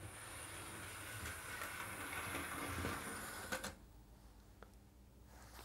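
A model train locomotive clatters steadily around tight first-radius S-bend curves, a close rhythmic rolling rattle that stops abruptly, leaving quiet with a couple of faint clicks.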